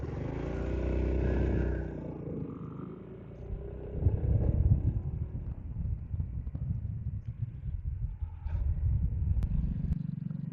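A 2026 Honda ADV350 scooter starts up and rides off, a moderate engine drone rising then settling into a steady running hum with some wind buffeting, close by with no talk.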